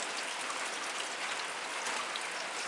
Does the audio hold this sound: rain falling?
yes